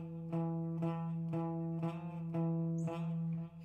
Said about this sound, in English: Hear that weird kind of popping noise versus this?